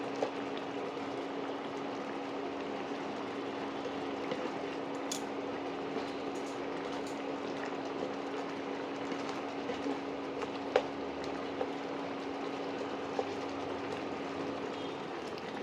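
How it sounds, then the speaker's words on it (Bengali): Thick date and mango leather chutney bubbling steadily in a pan, a low continuous simmer with a faint hum and a few small pops. "টকবক করে ফুটছে।"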